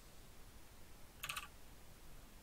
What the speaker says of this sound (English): we've got Zigg typing